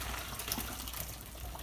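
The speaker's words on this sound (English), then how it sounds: "it's time to drain our potatoes" Boiled potatoes for a Southern potato salad are drained, and the cooking water pours and splashes steadily in a continuous close gush with no talk over it.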